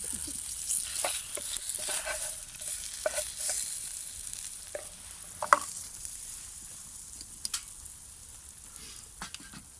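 Bacon sizzles and spits in a pan on a woodburner, a soft continuous hiss broken by scattered crackles and pops, with no one talking.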